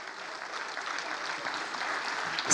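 Audience clapping at a children's certificate ceremony honoring young dancers, a moderate, steady patter of many hands heard from a short distance, continuing without voices.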